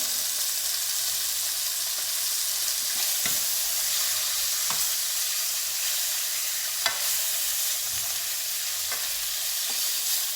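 Meat sizzles steadily in a hot pan, a constant close hiss with occasional sharper pops and crackles, no voices.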